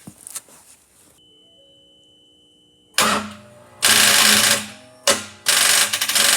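A starter cranks a partly seized 3.5L engine that has its spark plugs out and WD-40 in the cylinders. The loud, grinding turnover comes in several bursts of one to one and a half seconds, separated by short silent gaps.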